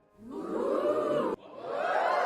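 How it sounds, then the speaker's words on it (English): A crowd of peasants led by a village elder shouts and cheers in the fantasy strategy game Songs of Conquest, a loud, dense swell of voices sustained for about two seconds with one brief break midway. "Shouting and cheering."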